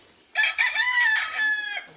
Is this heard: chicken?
yes